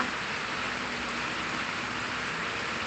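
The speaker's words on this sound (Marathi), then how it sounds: "असं पावसाचं वातावरण झालेलं आहे" Steady first monsoon rain hisses over a village in a continuous, even wash of noise, with a faint low hum beneath and no voices.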